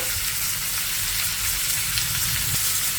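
Finely sliced cabbage and onions fry in a pan for a cabbage stir-fry, giving a dense, continuous sizzle that stays loud and close throughout, with no voices.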